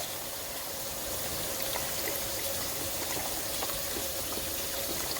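Beef broth pours into a pot of tomato sauce for unstuffed cabbage rolls, a steady close liquid hiss and trickle with faint splashes that lasts the whole stretch, with no talk.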